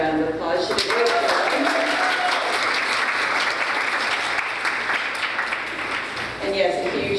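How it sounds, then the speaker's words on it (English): An audience at a youth mental health symposium breaks into a sustained round of applause, dense and steady clapping from many hands that fills the room for the whole stretch with no pause. "I think we need to give Ms. Lizzette a round of applause."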